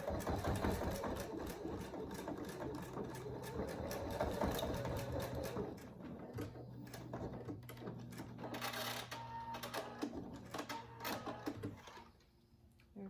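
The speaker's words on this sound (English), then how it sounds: "Sew the edge down to the collar." A sewing machine stitching down the edge of a fabric dog collar, a steady close mechanical whirring and rapid needle chatter that runs in bursts with brief pauses, then stops near the end.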